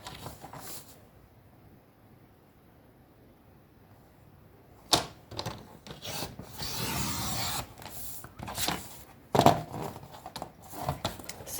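Paper card being cut to make a fan card, with a quiet stretch before a run of close, uneven scraping and rasping strokes and a few sharper snips.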